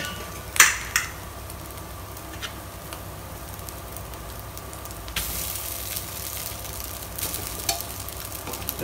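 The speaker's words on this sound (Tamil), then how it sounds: "இப்போ ரைஸ் போட போகிறோம்." Ponni rice for chicken fried rice tipped into a hot pan over fried egg, with a sharp clatter as it lands, then a steady quiet sizzle and soft scraping stir strokes.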